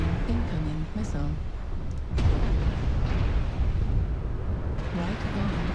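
Incoming missiles burst into heavy booming explosions in a MechWarrior video game, one strong blast standing out amid rumbling combat noise, with a voice speaking over it.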